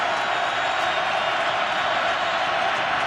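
An NFL stadium crowd cheers loudly at a 2013 Pittsburgh–Baltimore game on a third down, a dense, unbroken roar holding steady and full throughout.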